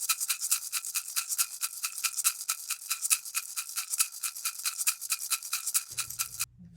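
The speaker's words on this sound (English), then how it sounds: "you need to put that cap on and give it a good shake for a couple minutes" A capped bottle of paint mix is shaken hard and fast, giving a close, steady, rhythmic rattling slosh that lasts several seconds before stopping, leaving a faint low hum.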